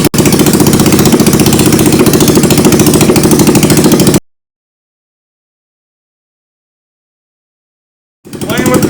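A Yamaha YS200 Yard Sport engine runs with the muffler off, giving a loud, harsh, rapidly pulsing idle for about four seconds. It then cuts to silence and restarts near the end.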